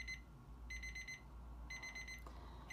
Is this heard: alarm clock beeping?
yes